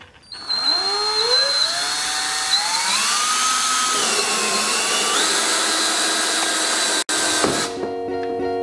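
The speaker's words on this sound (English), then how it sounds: "So for us, we'll drill our hole right here." A power drill with a hole saw whines up and bites into plastic car trim while installing ghost lights, its pitch rising and wavering for several seconds before cutting off near the end.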